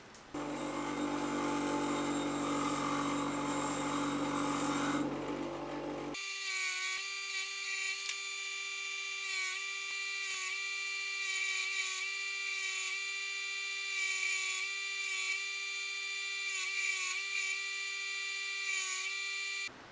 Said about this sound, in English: I've now chucked it up in my drill and I'm going to spin it against the grinder